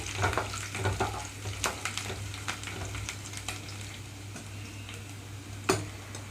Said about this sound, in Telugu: అలాగే పచ్చిమిరపకాయలు కూడా ఇక్కడ వెల్లుల్లి రెమ్మలు కొంచెం కలర్ మారే వరకు వేయించుకోవాలి